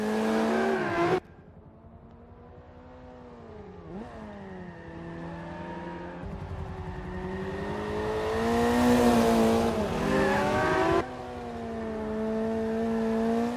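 Race cars, including a Ferrari F50 and a Dodge Viper, racing in Forza Motorsport 5, with steady engine drones rising and falling in pitch through gear changes, building louder as cars close in.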